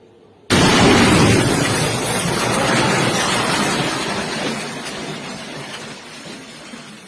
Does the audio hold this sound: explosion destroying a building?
yes